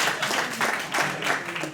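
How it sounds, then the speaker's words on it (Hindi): A small audience at a coaching leadership competition claps for a participating coach, a short burst of uneven, moderately loud clapping with distinct hand strikes. "पहले गौरव के लिए ताली बजा लेते हैं ना।"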